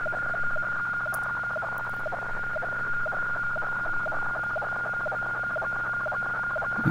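A weather fax radio transmission comes through a receiver: a steady high carrier tone with a regular repeating rhythmic pattern under a continuous noisy hiss, loud and unbroken throughout.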